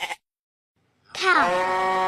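A goat gives a single drawn-out bleat with a wavering, rising-then-falling pitch, loud and close, after a brief sound and a pause of silence.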